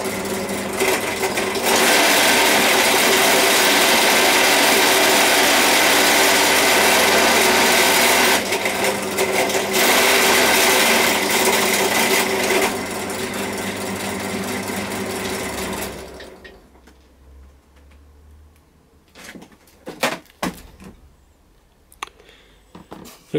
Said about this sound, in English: So I'm just going to use this drill press, a 10mm drill, and I'm going to attempt to drill a hole in the middle there.